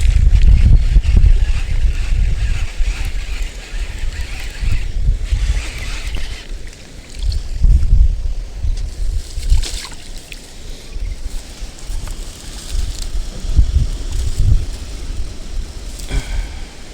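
Strong wind buffets the microphone while fishing in a flooded rice field, a steady, loud low rumble with surging gusts throughout and no talking.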